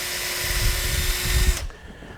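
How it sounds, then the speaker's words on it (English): A small power drill whirs steadily while boring holes in a birch bark basket, a close, sustained whine that cuts off abruptly near the end. "So when I drill this out, I don't try to put the holes like really close together."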